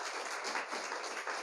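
A church audience at a sermon gives dense, sustained applause, many hands clapping at once in a steady wash of sound, fairly faint and distant, with no voices.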